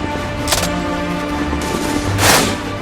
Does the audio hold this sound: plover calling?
no